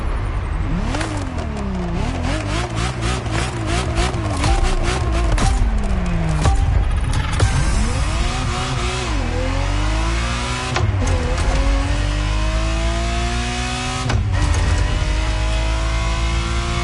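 A Ferrari Testarossa engine in the video game The Crew Motorfest revs again and again, loud and continuous, its pitch sweeping up and down through gear changes with no speech.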